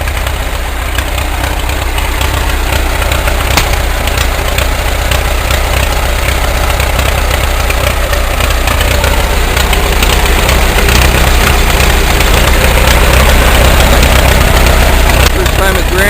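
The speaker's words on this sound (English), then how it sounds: "Dad got his tractor going after a big restoration." Loud, close engine of an old tractor idling on its first run in a long time after a big restoration, a steady low rumble with rough knocking and vibration that holds without letup.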